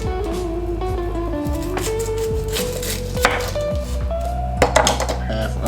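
A knife chops through an onion on a cutting board in a kitchen, a few crisp cuts audible under background music, with sharper knocks near the end.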